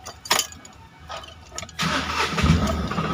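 A Tata Ace Gold BS6 mini truck engine cranks and catches, with a few short bursts early on before it fires into a steady, close diesel idle that keeps running to the end.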